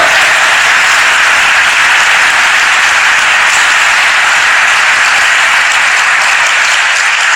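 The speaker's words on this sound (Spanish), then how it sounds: "un aplauso para el Señor esta mañana" A church congregation applauds for the Lord during a morning service, a dense, loud, unbroken wash of clapping that holds at a constant level throughout.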